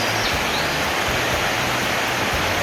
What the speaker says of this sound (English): Told me there was cascades here.